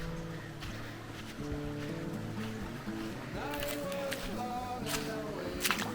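Water splashes and sloshes close by during a river crossing in the Sierra de la Laguna, Baja California Sur, with a low steady rush throughout and sharper splashes toward the end.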